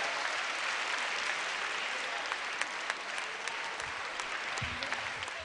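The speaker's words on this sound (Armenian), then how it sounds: "ձեր ծափահարությունները" A concert audience applauds, a dense, steady wash of clapping from many hands that holds evenly throughout at a moderate distance, with a faint voice near the end.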